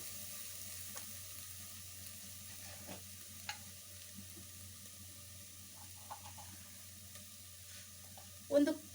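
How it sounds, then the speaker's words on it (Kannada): A teaspoon of chili powder fries in oil in a pan over low heat for a green gram curry. It gives a faint, steady sizzle with a few soft clicks of stirring and a brief louder scrape near the end. "ಒಂದು ಟೀ ಸ್ಪೂನ್ ಚಿಲ್ಲಿ ಪುಡಿ ಹಾಕ್ಕೊಳ್ತಾ ಇದ್ದೀನಿ. ಹೀಗೆ ಫ್ರೈ ಆಗ್ತಾ ಇರಲಿ."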